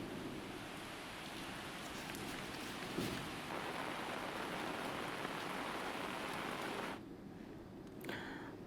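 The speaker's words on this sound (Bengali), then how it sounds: "ঢাকায় তো ঝড় বৃষ্টি চলছে" Heavy storm rain falls in Dhaka during a cyclone, a loud, continuous roar of downpour on surfaces lasting several seconds before briefly dipping, then returning.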